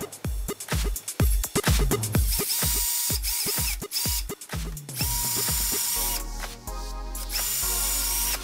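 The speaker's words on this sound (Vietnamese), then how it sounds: "Mình sẽ khoan thêm hai lỗ để vít hai ốc này vào." A power drill bores two holes into a wooden workpiece for mounting screws on a homemade handheld saw, with a run of rapid trigger bursts followed by longer steady whirring, loud and close.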